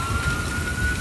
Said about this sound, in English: There are sirens going everywhere.